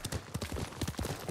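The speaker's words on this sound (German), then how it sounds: "Ein gutes Pferd." Horse hooves gallop in the video game Ghost of Tsushima, a quick, continuous rhythm of close, thudding beats repeating evenly.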